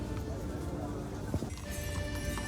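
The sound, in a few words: horse-drawn carriage hooves clip-clopping on Kraków street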